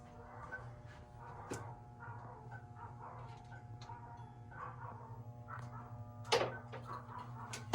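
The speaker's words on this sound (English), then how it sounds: "My dog upstairs here yelling at the police car driving by." A dog barks upstairs in a house, with scattered yaps and one sharp louder burst near the end, heard indoors over a steady low hum.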